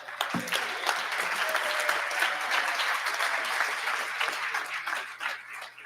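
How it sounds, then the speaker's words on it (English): Meeting attendees at an Americas Boating Club gathering clap together after a report, a steady, dense round of applause that holds for about six seconds with no talking over it. "I'm not sure if you're clapping for the report complete or what."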